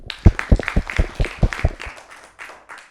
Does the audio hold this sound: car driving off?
no